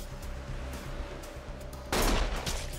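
Gunfire in a cutscene of the video game Like a Dragon: Infinite Wealth, a rapid stuttering burst over a steady background bed, with a louder, denser blast of fire near the end.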